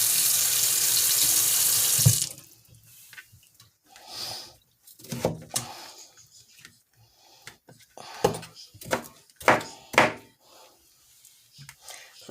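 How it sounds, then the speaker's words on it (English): Running tap water rinses a cutting board in a kitchen sink, a loud steady stream for about two seconds, then softer intermittent splashes and knocks as the board is handled under the faucet. "I should have made sure the cutting board was clean first. So, I'm gonna rinse it off."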